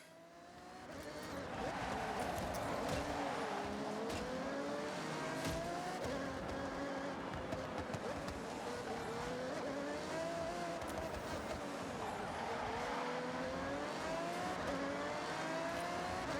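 A car drifting in the racing game Forza Horizon 6, with the engine droning loudly and steadily while the tires squeal and skid and the pitch rises and falls under a dense, continuous roar.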